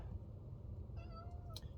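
A single drawn-out meow imitated by a person, close and clear, over a low rumbling background hum.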